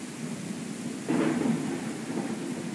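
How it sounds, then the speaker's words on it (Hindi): Steady heavy rain hisses throughout Ranch Simulator gameplay, with a brief rumble of thunder rolling in partway through, no voices present. "भाई बारिश काफ़ी ज़्यादा तेज हो रहा है"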